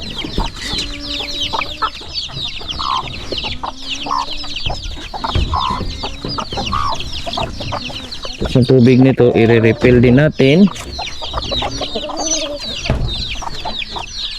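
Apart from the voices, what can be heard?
chickens clucking at feeding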